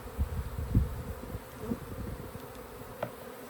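Honey bees hum around a backyard beehive, a faint, steady buzz with a few soft bumps and knocks close by.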